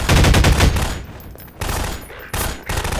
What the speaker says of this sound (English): there is an alternate mode for the AR-2 pulse rifle.